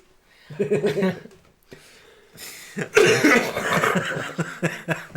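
A person coughs and clears their throat harshly, followed by a longer burst of heavy, raspy coughing close by.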